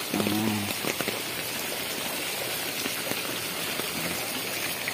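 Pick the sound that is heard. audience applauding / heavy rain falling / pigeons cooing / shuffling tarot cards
heavy rain falling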